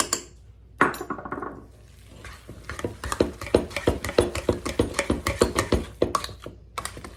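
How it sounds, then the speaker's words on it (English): Stirring sour cream into baked potatoes for a casserole, a rapid series of close clinks and scrapes of a utensil against a dish, with no talking. "now I'm gonna get this sour cream. Get it stirred up in here first"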